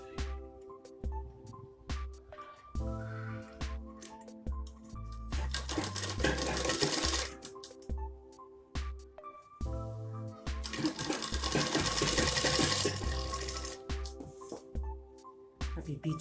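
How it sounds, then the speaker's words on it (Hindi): Sewing machine stitching the center seam of a palazzo, running in fast mechanical bursts separated by short pauses, with the clatter rising and falling near the microphone and no talking. "अभी बीच वाली सिलाई मैंने शुरू कर दी है"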